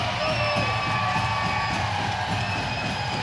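A home crowd at a Birmingham Bulls ice hockey game cheers and shouts steadily through the arena, a loud, dense roar of voices with whoops rising above it.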